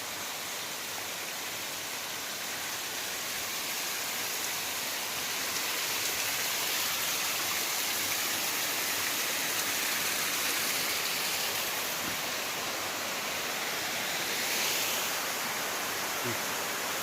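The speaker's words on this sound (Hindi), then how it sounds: "और रास्तों में तो पानी पानी हो रखा है।" Water rushes along a mountain trekking trail in the Dhauladhar range of Himachal Pradesh as a constant, full hiss that stays steady and close throughout.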